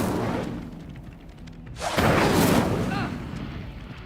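In the video game Hogwarts Legacy, the Incendio fire spell bursts out with a sudden whooshing roar that swells and fades over a couple of seconds, following a brief voice.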